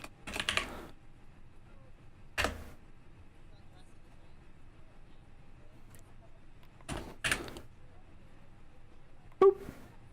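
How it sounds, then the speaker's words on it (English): Keys tapped on an MCDU keyboard in a flight simulator, Microsoft Flight Simulator 2024, come in a few short, separate bursts of quiet clicks spread over a low, steady background hum. "MCDU keyboard input."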